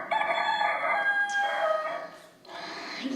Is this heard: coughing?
no